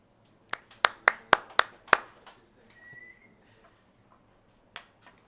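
A handful of sharp hand claps from an audience at a bowling event ring out in a short, sparse burst, then stop, leaving near silence with one last stray clap.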